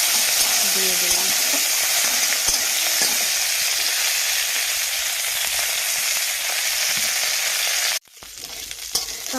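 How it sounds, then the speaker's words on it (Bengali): Fenugreek leaf tips tossed into hot tempering oil with chili sizzle and crackle loudly and steadily for about eight seconds, then the frying abruptly cuts off into a quieter, different sound. "আর দেবো মেথি শাকের ডগের দিকে পাতাগুলো রেখে দিয়েছিলাম ফোড়নে দেওয়ার জন্য, দিয়ে দিলাম"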